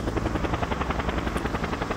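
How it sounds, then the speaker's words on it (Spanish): A steady helicopter rotor in the video game Just Cause thumps in a fast regular beat, loud and close, with no voices over it. "¿Voy en helicóptero?"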